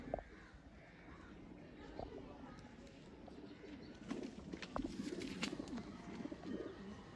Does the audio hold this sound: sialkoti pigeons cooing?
yes